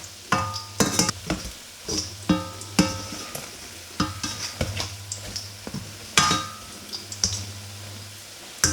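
Doughnuts cooking in a dry pan with no oil, a low steady sizzle under repeated close clinks and scraping taps of a utensil against the pan, no voices.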